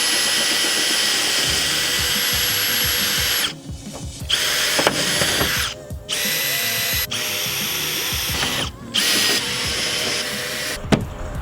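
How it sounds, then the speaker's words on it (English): A power drill bores out rivets on a car wing, the high whine running in sustained bursts with short pauses between rivets, loud and close. "I have to drill out these rivets"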